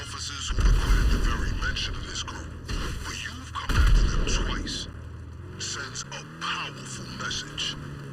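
Missile explosions in the GTA 5 Online video game, two heavy booming blasts near the start and around four seconds, with rumbling aftermath and game sound effects continuing underneath.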